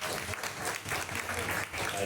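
Applause from the audience at a book launch, honouring the designer of the cover and interior. Steady clapping fills the room for a couple of seconds, with voices mixed in.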